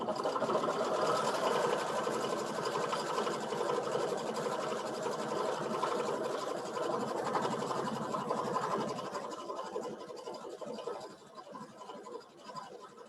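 A Baby Lock IQ Designer embroidery machine stitches a tack-down pass, a steady fast whirring chatter running continuously and close, easing slightly softer toward the end.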